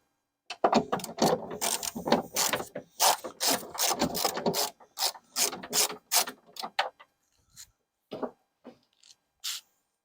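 A ratchet clicks in quick bursts while screws on the window regulator of a Porsche 996 911 are slackened, loud and close, with the rapid clicking thinning into a few sparse clicks toward the end.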